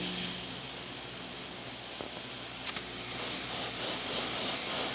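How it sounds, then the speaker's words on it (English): Steam wand on a Quickmill Silvano espresso machine, freshly serviced, releases a strong, steady hiss that runs the whole time, loud and close, with a couple of faint clicks partway through. "Let's go ahead and test the steam."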